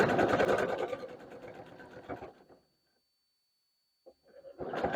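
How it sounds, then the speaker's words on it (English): A sewing machine stitches a fabric burp cloth in a close, steady whirring burst, stops for over a second of silence, then starts up again. "we are being careful not to pull on the fabric as we sew it"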